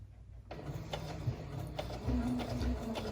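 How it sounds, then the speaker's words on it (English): A sewing machine stitches a straight seam on a hexagon-flower quilt-as-you-go block, starting after a brief quiet moment into a steady mechanical whirr with rhythmic needle clatter, close and moderately loud. "Now I'm just going to do a straight stitch and just follow along."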